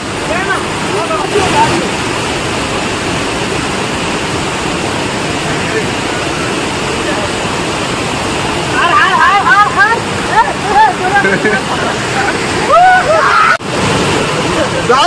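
Keradi falls pours as a steady, loud broadband roar of falling water throughout, with excited voices and whoops rising over the rush in the latter half.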